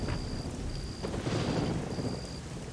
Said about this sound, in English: there's a lot of, like, rain effects, rain sounds